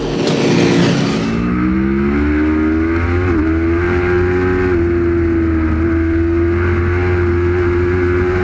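Racing motorcycles at the Ledenon circuit in France during a European Bikes event, a loud sustained engine drone with shifting pitch as bikes pass and hold revs, heard from trackside with no talking.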